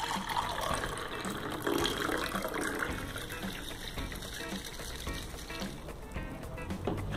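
Cold water is poured into a hot sublimation mug, a steady close splashing and filling sound with a gurgling tone that continues throughout without speech.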